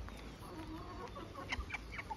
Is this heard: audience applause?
no